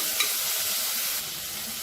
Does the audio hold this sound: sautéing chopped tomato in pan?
yes